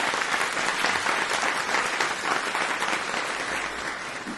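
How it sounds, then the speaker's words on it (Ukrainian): A live audience bursts into sustained, even applause greeting a famous mine-detection dog on stage, a thick wash of many hands clapping, steady and fairly loud before easing slightly at the end. "Ваші оплески."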